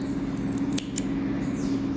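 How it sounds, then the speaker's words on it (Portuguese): Scissors snip excess yarn off a crocheted amigurumi, two quick close crisp cuts breaking through a low steady background hum. "E pode cortar esse excesso."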